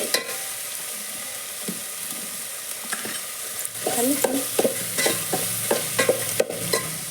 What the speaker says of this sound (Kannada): ಬೆಂಡೆಕಾಯಿ ಒಗ್ಗರಣೆ ಕೊಡ್ತೀನಿ ರೀ